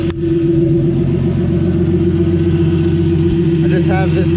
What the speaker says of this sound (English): Now I don't have any vacuum leaks and it's idling so smooth.